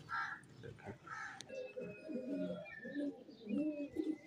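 A Teddy Golden pigeon in a Lahore loft coos in soft, low, rolling phrases, with faint chirps from other birds around it, under someone talking.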